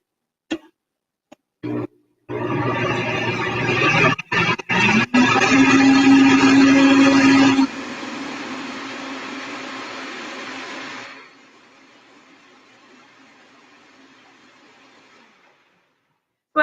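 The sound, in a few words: blender blending pancake batter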